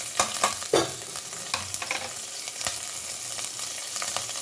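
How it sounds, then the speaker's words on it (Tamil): Fennel seeds sizzle and crackle in hot oil, with a few sharp scrapes and taps of stirring near the pan. "எண்ணெய் சூடாயிடுச்சு நம்ம இப்போ கொஞ்சம் சோம்பு போட்டுக்கலாம் சோம்பு நல்லா பொரியட்டும்"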